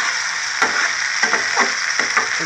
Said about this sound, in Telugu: ఇది కొంచెం బాగా ఇలాగ ఫ్రై అవ్వాలి.